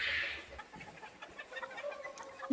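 Serama bantam chickens in a pen give a sharp call and then a run of soft, scattered clucks, fairly close and moderately quiet.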